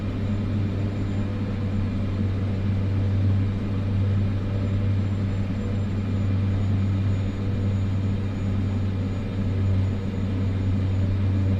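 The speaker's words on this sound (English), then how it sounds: "So I'm just gonna throttle back down again." A simulated airplane engine in Microsoft Flight Simulator 2024, throttled back during a descent, gives a steady low droning hum that stays even and unbroken throughout, with no voices over it.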